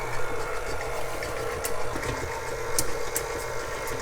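A stand mixer with the paddle attachment churns cream puff dough at low speed, a steady close motor hum with a soft irregular slapping and churning texture throughout.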